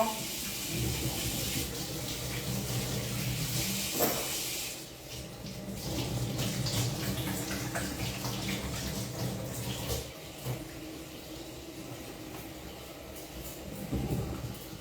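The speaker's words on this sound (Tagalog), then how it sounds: "Hugasan ang kamay. Hugasan tayo kamay." Hands being washed under a running tap, a steady splashing rush of water close by with brief dips and scrubbing changes, and some voices faintly in the background.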